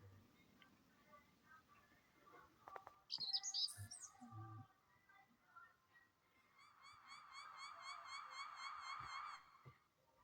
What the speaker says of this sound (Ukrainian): А тим часом на вулиці до нас прилетіли шпаки. Он шпак зазиває